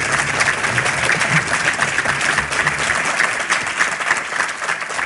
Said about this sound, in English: Let's have another round of applause for our panelists.